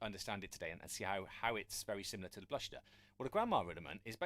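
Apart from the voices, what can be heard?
No everyday noise stands out behind the speech.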